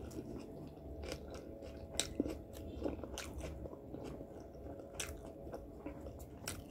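A tuna sandwich snack is eaten close to the mic, with soft irregular bites, crunches and chewing in a quiet room and no talking.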